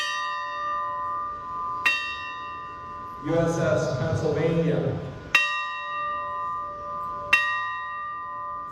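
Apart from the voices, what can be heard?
memorial bell ringing for Pearl Harbor remembrance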